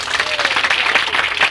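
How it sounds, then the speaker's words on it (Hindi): A crowd at a public gathering in Bihar claps loudly in a brief, dense burst of applause welcoming a speaker. "जोरदार ताली के साथ स्वागत"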